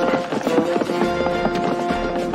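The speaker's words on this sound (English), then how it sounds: "Get 6 fresh horses ready now." Horses' hooves clip-clop at a steady trot in a 1990 Western TV drama, a close, continuous rhythmic clatter mixed with a tonal musical score.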